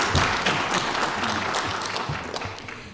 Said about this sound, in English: Terry, let's give her one more round of applause.